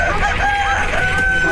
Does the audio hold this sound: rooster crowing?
yes